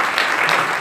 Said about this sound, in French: je propose qu'on les applaudisse pour les remercier de leur participation